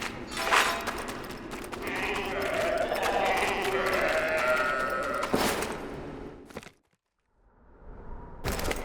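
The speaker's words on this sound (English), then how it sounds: "The cow grub mooed" Cow grub from the video game Tails of Iron 2 lowing in a nest, a bleating, moo-like call held for several seconds over game sounds, followed by a brief silence and a short return of sound.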